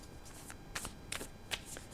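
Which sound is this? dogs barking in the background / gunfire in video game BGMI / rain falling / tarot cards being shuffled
tarot cards being shuffled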